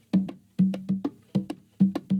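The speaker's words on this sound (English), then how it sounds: "Next up we have this percussion loop, which is like bongos or something." Bongo-like hand percussion loop sample, a steady pattern of paired hits repeating about every half second, close and clear with no other instruments.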